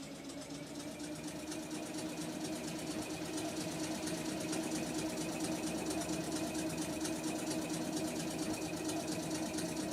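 A vehicle engine idles in the survival building game Eco, a steady, even mechanical hum with a fast regular rattle, constant in loudness and heard alone.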